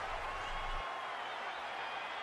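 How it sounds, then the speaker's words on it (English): A WWE 2K20 arena crowd cheers in a steady, hissing roar. It is faint and distant, with a soft low rumble that drops away partway through. "God, the crowd is electric!"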